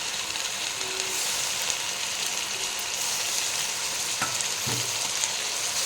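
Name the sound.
stirring chicken pulao with mint in frying pan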